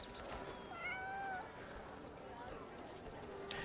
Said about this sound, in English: I really like the meow in this game.